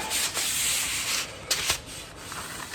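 Sandpaper rubs over an old wooden-handled garden tool in short scratchy strokes, close and fairly quiet, with a few sharper scrapes and no talking.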